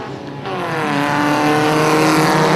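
Pro4 race cars pull away at the start of a 40-lap race at Punta Gorda Speedway, a loud, steadily building engine roar that rises in pitch as the pack accelerates together.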